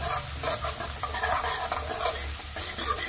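Steady stirring and scraping of tempering for lauki chana dal in a pan over a soft sizzle of frying, continuous and close with no talking.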